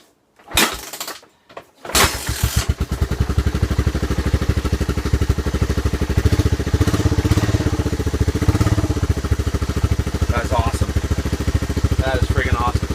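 A trike engine started on the choke: a couple of short bursts and cranking, then it catches into a steady, loud, rhythmic idle that runs alone to the end.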